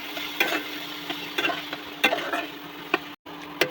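Salted food fries in a pan with a steady low sizzle while a spatula stirs it, giving repeated light taps and scrapes against the metal at an uneven rhythm, heard close up.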